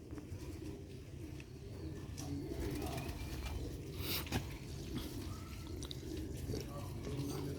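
Sialkoti chhat pigeons, kept as rooftop birds, coo faintly beneath a steady background hiss and rumble.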